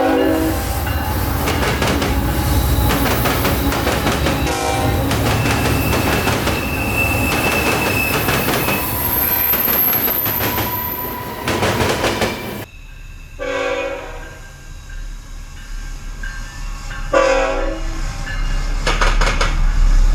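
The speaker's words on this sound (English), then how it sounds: "I will explain once the locomotives go by" CSX freight locomotives and railcars rolling through Plant City, Florida, a loud roar of passing wheels with high squeals, a horn tone, and rhythmic clickety-clack as the cars continue by after the engines fade.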